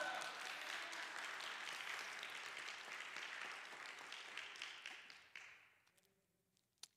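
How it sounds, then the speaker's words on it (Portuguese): A church congregation applauds, sustained clapping from many hands that slowly thins and fades to scattered claps near the end. "Alguém pode aplaudir ao Senhor aqui?"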